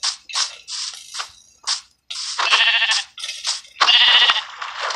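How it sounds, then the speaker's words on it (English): Sheep in the video game Minecraft bleat loudly and close, with a quick run of repeated bleats in an uneven rhythm and no talking. "That sheep over here going crazy."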